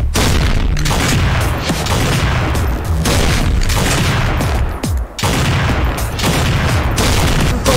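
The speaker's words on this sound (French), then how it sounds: "Un combat de sniper avec Shrek." Gunfire in a Shrek-themed shooter video game, loud continuous barrage of booming shots and blasts with a brief lull partway, no voices.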